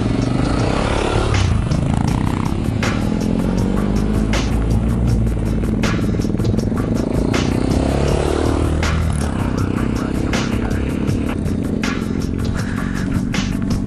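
A Kawasaki KLR 650 motorcycle rides across desert terrain, its engine droning continuously under loud wind buffeting, with scattered clatter and scraping from the rough ground.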